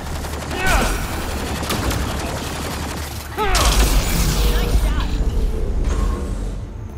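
Sustained turret gunfire in Mass Effect: Andromeda, a dense rattling fusillade that swells louder at the midpoint amid mechanical creaks, with a voice heard briefly.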